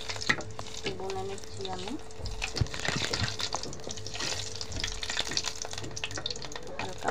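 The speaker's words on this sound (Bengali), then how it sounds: "আর এখানে আমি দুই তিনটা তেজপাতা একটু চিড়ে দিয়েছি। ওগুলা আমি একটু ভুনে নিচ্ছি" Torn bay leaves frying in hot oil in a pan, a steady close sizzle with scraping stirs, as tripe fry is cooked. A brief spoken word cuts in.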